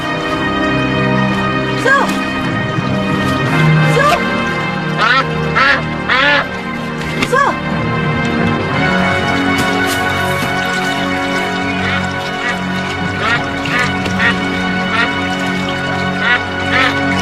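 A bird in a film scene quacks repeatedly in loud, close, irregular bursts over a sustained musical drone and scattered background sounds.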